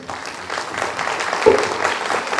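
Audience clapping at a women's empowerment event in Hanumakonda, a moderate, continuous patter of many hands that swells slightly, with one sharper clap standing out near the middle.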